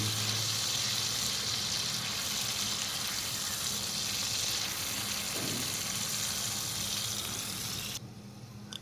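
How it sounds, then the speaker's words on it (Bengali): Potatoes fry in hot oil with a constant, even hiss that carries on unbroken for several seconds before easing off near the end. "এখন আলুটা একটু ভেজে নিতে হবে"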